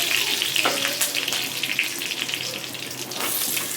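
Mustard seeds and leaves fry in oil over a low flame for a chicken sukka, producing a loud, dense hissing sizzle that runs steadily from start to finish, close and without pauses.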